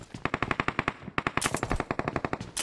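Automatic gunfire in a battle royale shooter, two fast bursts of evenly spaced sharp shots with a short pause between, close and distinct.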